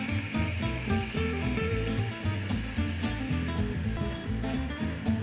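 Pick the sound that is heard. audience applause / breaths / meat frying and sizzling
meat frying and sizzling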